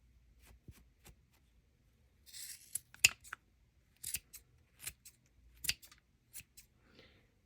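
Scissors snip around a yarn and tulle pom pom in a string of crisp, close cuts at an uneven rhythm, with faint rustling of the fibres between them.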